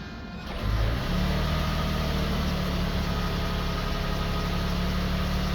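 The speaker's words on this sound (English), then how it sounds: "let's go ahead and start up the vehicle and see if the DRLs work" A vehicle engine cranks and catches after a short starter burst, then settles into a steady, loud, even idle close by. It is fitted with newly installed Auxbeam Cube Z LED pod lights.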